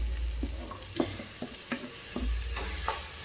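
Chopped tomatoes sauté in a pan for a Chettinad chicken curry, a steady soft sizzle broken by a few scraping stirs of the spatula, close and quiet, no voices.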